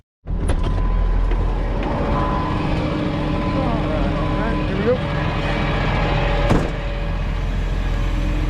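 A big wrecker tow truck drives along with a loud, steady engine drone and road rumble close by, holding level throughout apart from a brief rattle near the end.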